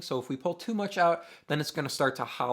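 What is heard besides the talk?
No distinct noise like a dog, phone or traffic.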